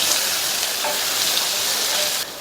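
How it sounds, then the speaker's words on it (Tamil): Finely chopped curry leaves stirred into onion paste frying in a pan for an ivy gourd and onion curry, a dense continuous sizzle with soft stirring underneath, stopping abruptly near the end. "அடுத்து இதில் பொடியாக கட் பண்ண கருவேப்பிலை இலைகள் கொஞ்சம் சேர்த்துட்டு நல்லா ஒரு தடவை கலந்து விட்டுறலாம்"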